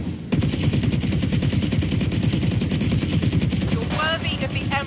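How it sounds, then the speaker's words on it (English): Heavy bolter firing in the Warhammer 40k-style video game Battle Sister, a loud unbroken stream of rapid automatic shots lasting several seconds, with higher-pitched effects and a game voice appearing near the end. "This is a freaking heavy bolter. No need to aim."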